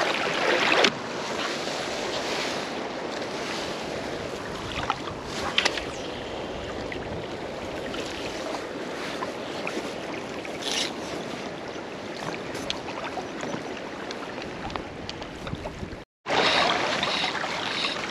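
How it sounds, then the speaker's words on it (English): Fast-flowing river water rushes continuously and loudly, a dense wash that holds steady throughout, briefly cutting out near the end before resuming. "This is lovely, fast flowing water."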